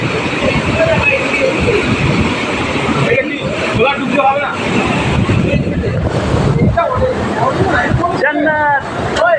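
River water rushes steadily at Jayanti, a loud continuous wash of flowing water close by, with several people talking over it throughout.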